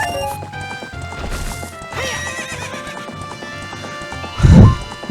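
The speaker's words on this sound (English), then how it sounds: "Get on the horse." Horse in Zelda: Ocarina of Time, with a loud whinny and clip-clop hoofbeats over game music, ending in a heavy thump near the end.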